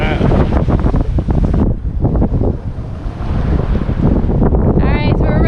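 Strong wind and heavy surf batter a sailboat on rough seas, with a constant loud roar of gusts and crashing water, wind buffeting the microphone throughout and a brief lull in the middle.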